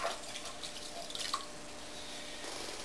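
A sponge pulls water out of the bottom of a freshly thrown 10-inch clay vase, producing soft wet dabbing and faint drips over a quiet, steady background hum.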